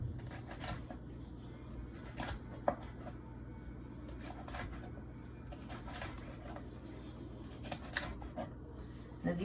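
A knife slices a bell pepper into small ribbons, making soft, quick, evenly spaced cuts that stay close and quiet over a steady low background hum.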